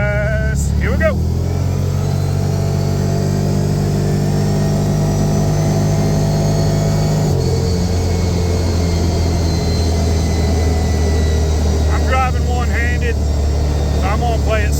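A CFMoto UForce 1000 side-by-side accelerates hard, its engine roaring loud and steady with a shift in pitch midway; a voice speaks over it at a few moments.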